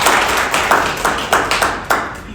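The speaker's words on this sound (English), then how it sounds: "So a big hand of applause for her." Audience claps at a signing ceremony at Folkfest Saskatoon's Bangladeshi Pavilion. The claps sound as close, distinct hand claps in an uneven rhythm over a steady crowd background, with no speech.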